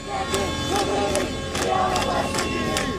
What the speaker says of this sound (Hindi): यहाँ भी हिजाब के विरोध में सड़कों पर भीड़ जमा है, गाड़ियों के हॉर्न बजाए जा रहे हैं और नारेबाजी की जा रही है